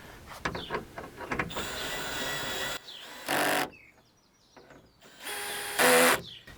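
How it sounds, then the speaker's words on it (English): A power drill whirs in two bursts, snugging a 10mm fastener on a 2014 Ford F150 door actuator, revving and slowing with a louder high-pitched whine near the end of each run. "for this one, I do have the drill"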